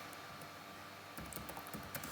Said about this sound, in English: So I'll start typing